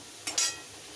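Kakrol fritter batter gets a quick stir in a bowl, a single short, soft scraping swish over near silence.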